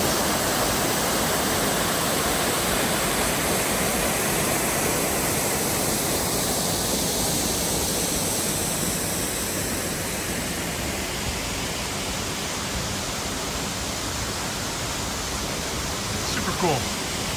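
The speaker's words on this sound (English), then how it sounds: "Long Creek Falls." Long Creek Falls, a waterfall on the Appalachian Trail near Springer Mountain, pours in a steady, loud broadband rush that holds unbroken for the whole stretch, close by and alone with no other sounds.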